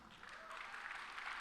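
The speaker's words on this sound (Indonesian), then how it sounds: "Yang perintis boleh tepuk tangan?" Audience members at a panel talk clap their hands, a faint, continuous patter of applause heard from a distance through the room.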